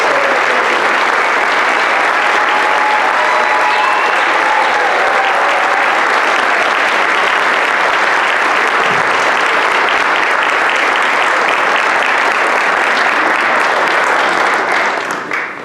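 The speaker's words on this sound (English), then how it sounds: "Let's give them one more round of applause." A large audience at a high school National Honor Society induction ceremony claps in a dense, loud, sustained roar that runs for about fifteen seconds before starting to fade.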